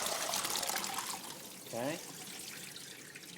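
Water from rinsed beans pours and trickles steadily as they drain in a kitchen, faint and continuous, with a single brief spoken word partway through.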